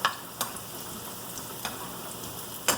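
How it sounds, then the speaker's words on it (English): Garlic browning in a pan while salmon is being cooked, giving a steady soft sizzle with a few sharper crackles and pops near the start, middle and end, with no voices. "you brown the garlic first until they roast it and smell good"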